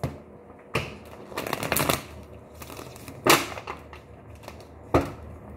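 Tarot cards being shuffled by hand in a few separate bursts of riffling and flicking, fairly close and alone, with short quiet gaps between the bursts.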